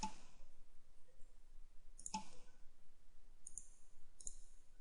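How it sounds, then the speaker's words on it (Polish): A computer mouse gives several sharp, isolated clicks spaced a second or two apart, quiet and close, with no talking. "klikamy przycisk Finish"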